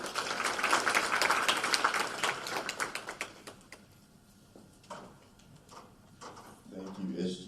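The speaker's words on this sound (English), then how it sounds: "give yourselves a round of applause" Audience applause at a student town hall, a fairly loud burst of many hands that thins out to a few scattered claps and then gives way to talk.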